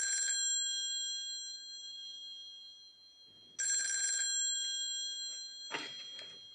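A telephone bell rings in an indoor scene in San Francisco, sounding in two clear bursts with a pause between them, followed by a brief clatter.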